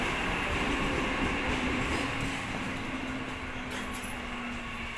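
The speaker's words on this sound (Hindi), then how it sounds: "ये मैं आपको गांव का ट्रेन दिखा रहा हूँ जो इस समय यहाँ पे खड़ी है।" A long-distance village train stands at the platform of Virar railway station, giving a steady low rumble and mechanical hum that fades slightly towards the end. No one speaks.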